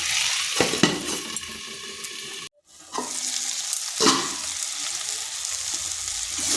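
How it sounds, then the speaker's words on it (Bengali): Pumpkin and egg sizzle steadily as they fry in a pan, with repeated scraping stirs of a utensil against the pan; a brief near-silent gap interrupts the close, continuous frying. "এরপর ঢাকাটা খুলে এইভাবে নেড়ে এটাকে বেশ কিছুক্ষণ ভেজে নিতে হবে।"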